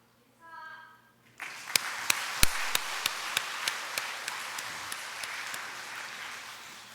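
A church congregation bursts into applause after a brief voice, the clapping a broad, steady wash punctuated by sharp, regularly spaced claps that gradually soften.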